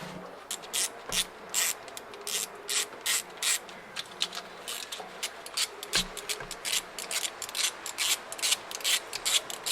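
Ratchet wrench working a long screw loose on a 1969 Ford Bronco, a close, steady run of dry clicking strokes repeated in quick bursts throughout, with brief pauses between pulls and no talking.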